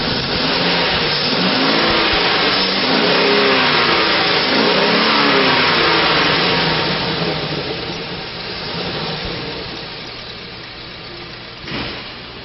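A 2005 GMC Savana van with a 6.0-liter engine and automatic transmission runs loud and close, holding a steady drone with a rise in revs early on before settling lower, with a brief knock near the end.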